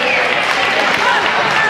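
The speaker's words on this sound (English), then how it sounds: "What a round of applause for both these teams" A gym crowd at a boys' varsity basketball game applauds in a dense, loud wash of clapping, brief and steady throughout.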